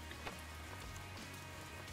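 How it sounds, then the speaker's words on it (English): A hailstorm in the Roblox game Dusty Trip patters steadily, a dense, even hiss of pelting ice with occasional louder impacts and no speech. "The hailstorm."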